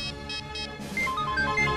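A phone rings unanswered in a police drama scene, with a repeating electronic ringtone pattern followed by brighter melodic tones, close and clear with no talking.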